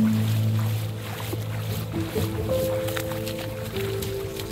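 Someone wades on foot across a cold winter stream, with steady water sloshing and splashing throughout, while sustained music-like tones sit over the water noise.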